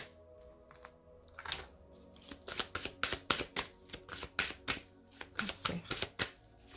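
A deck of oracle cards is cut and shuffled, giving a run of crisp riffling bursts and flaps at close range with short pauses between them and no voices.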